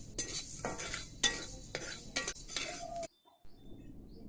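Food being stirred in a cooking pot over a village stove, a few scraping, clattering strokes close by, then a brief pause near the end.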